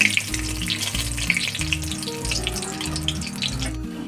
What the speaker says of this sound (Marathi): आता हे सर्व तेलामध्ये टाकून घ्यायचं मिनिटभर हे मसाले तेलात फ्राय करून घ्यायचे